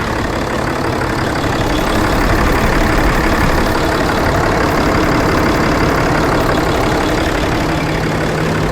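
A Ram 2500 with the 6.7L Cummins diesel idles after a fuel filter change, a loud, steady, close engine drone that holds unchanged from start to end with no talking.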